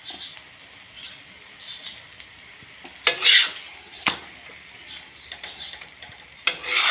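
Chili cheese paratha frying in desi ghee on a pan, a low continuous sizzle broken by several sharp clinks and scrapes of a spatula against the pan, close up with no talk.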